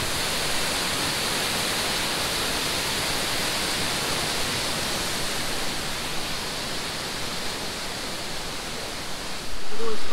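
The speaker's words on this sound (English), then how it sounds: "Look, this pool just goes very gently underneath the waterfall." A Pyrenees mountain waterfall produces a steady, loud, broadband rushing roar that continues unbroken throughout, close by and alone.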